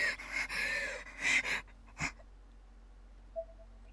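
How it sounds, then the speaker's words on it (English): A girl's erratic, gasping breaths in the horror game Corpse Party: Blood Drive, several ragged wheezing inhales in quick succession, then a faint isolated gasp and a softer catch after a pause, fairly quiet with no speech. "Her breathing became more and more erratic as her body rocked with convulsions."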